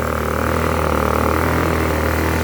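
A $50 Blackridge 800 watt inverter generator runs steadily on dirty fuel, its small engine giving a constant close drone with a slight uneven flutter and no pauses.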